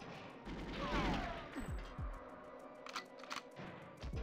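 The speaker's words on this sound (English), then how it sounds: "You can see him down there shooting at me." Gunfire from a guard shooting in the GoldenEye 007 caverns level: a few sharp game gunshots that each cut off and drop away quickly, with echoing ambience between them and no talk.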